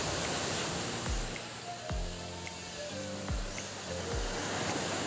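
Sea waves wash and break along a shore during a typhoon, a steady broadband roar with faint rising surges, loud and close, with no voices over it.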